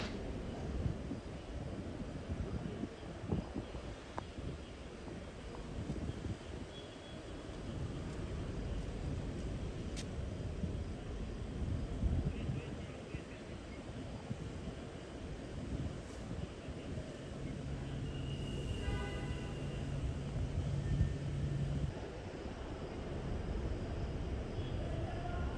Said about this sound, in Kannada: ಅಲ್ಲಿ ಒಂದಿಷ್ಟು ಏರೋಪ್ಲೇನ್ಗಳು ಓಡಾಡ್ತವೆ, ಬರ್ತಾ ಇರೋದು, ನಿಲ್ಲಿಸೋವಂಥದ್ದು, ನಿಂತಿರೋ ಜಾಗದಿಂದ ಮುಂದಕ್ಕೆ ಹೋಗೋದು